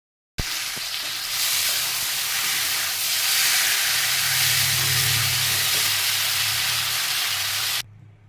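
Egg curry cooks in a pan with a loud, steady sizzle and hiss that starts abruptly, holds for about seven seconds and then cuts off.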